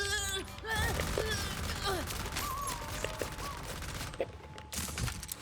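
Turret gunfire in the video game Borderlands 4, a steady rattle of rapid shots mixed with electronic whines and game effects, fairly loud throughout.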